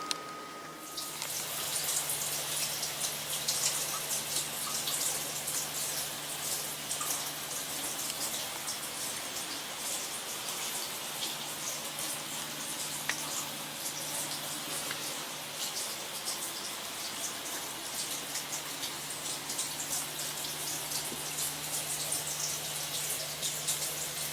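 Water from an RV shower sprays steadily onto the stall floor and door during a leak test, a dense, even hiss that keeps up for over twenty seconds with no voices.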